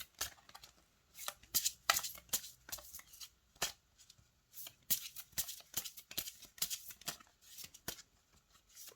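A deck of shiny oracle cards is shuffled by hand in quick, close riffling bursts with brief pauses between them.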